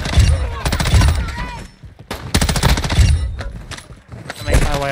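Rapid automatic gunfire and scattered shots from a DMZ shooter game, loud and close in dense overlapping bursts with short gaps, as a player talks over the action.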